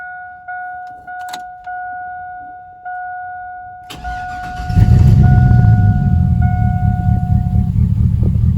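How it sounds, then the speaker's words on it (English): The engine of a 2000 Chevrolet Silverado pickup under brake line repair starts after a chime and a few clicks, cranking briefly before settling into a loud, steady idle close by. "So let's go ahead and get her started up."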